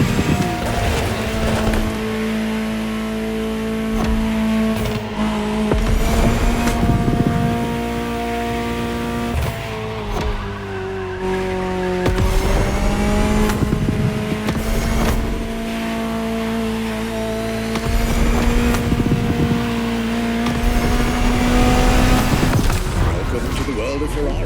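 A high-revving Ferrari supercar engine in a racing video game screams and climbs through gears, pitch rising and dropping between shifts, loud and close for the whole stretch.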